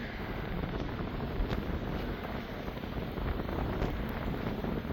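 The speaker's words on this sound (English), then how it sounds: "It's been windy through the night. Meltemi's blowing." A strong Meltemi wind gusts at an anchorage, making a steady, loud roar of wind buffeting the microphone with no voices.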